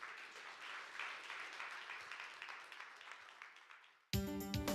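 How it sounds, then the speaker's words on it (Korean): An audience at a Korean science lecture applauds to welcome a professor, a dense close clatter of many hands that slowly fades, cut off by a burst of loud music at the end. "김경렬 교수님을 큰 박수로 맞이해 주시기 바랍니다"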